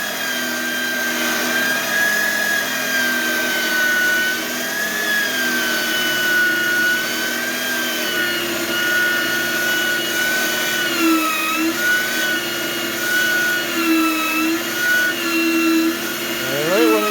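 Oster pipe threader cutting threads on 1-1/2 inch steel pipe, a steady, loud motor drone with a grinding, whirring tone that holds for the whole stretch with slight pitch wavers.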